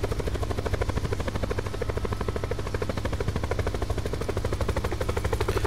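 Helicopter rotor from the video game Black Ops 4, a steady loud pulsing chop throughout, with gunfire bursts mixed into the dense rhythm and no talk.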